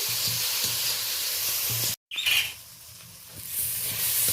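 Onion and tomato fry in a pan, a steady close sizzle with soft patter as the mix is stirred lightly, broken by one brief dropout before the hiss resumes.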